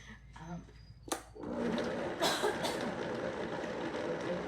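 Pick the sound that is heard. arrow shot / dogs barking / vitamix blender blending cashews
vitamix blender blending cashews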